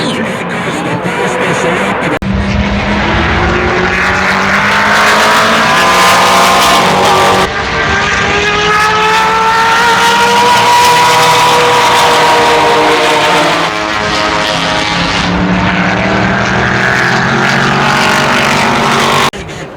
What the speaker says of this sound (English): Corvette's gonna be the Gretzky car, number 99.